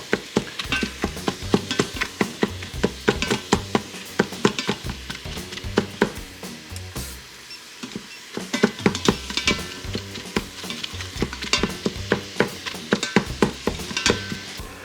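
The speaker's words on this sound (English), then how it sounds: "Let's get this browned up, and I want to keep it stirred." Ground meat browning in an Instant Pot, a close, steady sizzle with repeated scraping clatter from stirring, busy and rhythmic throughout with a brief lull midway.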